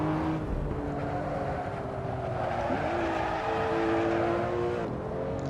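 A Porsche 911 Turbo S in Assetto Corsa holds a four-wheel drift, its engine tone rising and falling with gear changes while tires hiss and squeal continuously at moderate level.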